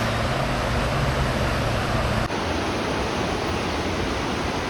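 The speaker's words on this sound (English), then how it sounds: "The water looks swift" Swift, rough river water rushes in a steady, dense roar beside an Appalachian Trail hiking route near Harpers Ferry, loud and close the whole time with no break.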